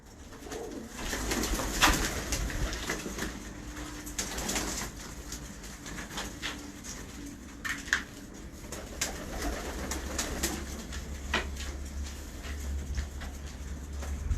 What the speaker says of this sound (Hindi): उन्होंने मुझे एक कबूतर भेजा है